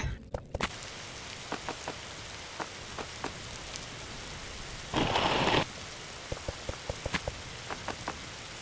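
Rain falls in a steady hiss in the forest of the video game 99 Nights in the Forest, with scattered clicks and taps over it and one brief louder burst partway through; no voices.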